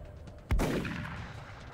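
A single shotgun blast from the video game XCOM: Enemy Within, one sharp, loud bang followed by a short decaying boom, with no talking over it.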